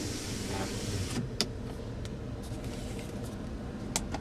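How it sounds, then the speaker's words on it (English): A steady electric motor hum from the power sliding rear window of a Ford F-150 Lariat crew cab pickup, with a few faint clicks and a soft thump as it stops. "This right here is your powerful sliding rear glass."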